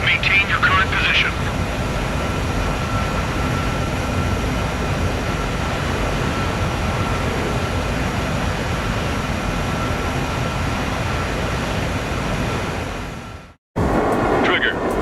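Jet aircraft engines from Ace Combat 7 during in-flight refueling hold a loud, steady roar from start to finish, with a brief dropout to silence near the end before the drone resumes.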